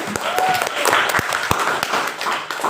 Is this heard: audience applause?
yes